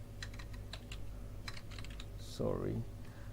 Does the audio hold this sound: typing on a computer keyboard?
yes